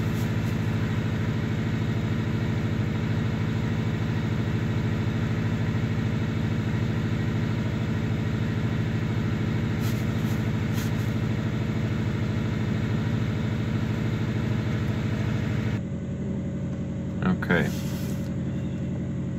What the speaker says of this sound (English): So the idle is just coming down.